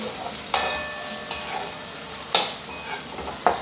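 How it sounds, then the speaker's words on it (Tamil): Sliced onions sauté in a hot pan for masala dosa filling with a steady loud sizzle, broken by several scraping stirs of a spatula. "வெங்காயம் போட்டுட்டு 2 to 3 மினிட்ஸ் நல்லா சாட்டே பண்ணிக்கோங்க."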